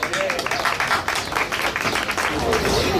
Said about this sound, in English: Give Roxanne a round of applause